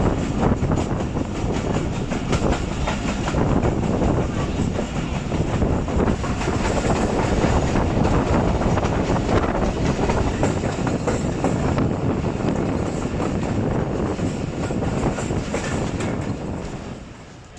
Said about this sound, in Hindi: थाला एक्सप्रेस डुमेल रेलवे स्टेशन से डिपार्चर कर रही है